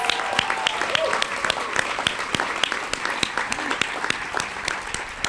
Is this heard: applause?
yes